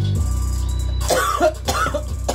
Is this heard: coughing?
yes